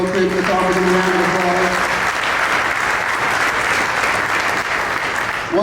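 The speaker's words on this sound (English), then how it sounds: "let's offer them a round of" An audience at a community salute event bursts into loud, sustained applause that fills the room, with a speaking voice audible under it at the start.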